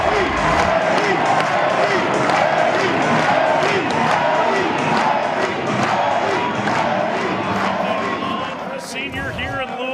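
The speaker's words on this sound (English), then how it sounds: "Here was a reaction from the crowd after the seniors' go-ahead base hit." A baseball stadium crowd at an NCAA Baseball Championship game between Louisville and Miami roars after a go-ahead base hit, a dense, sustained wall of cheering and yelling that fades slightly toward the end.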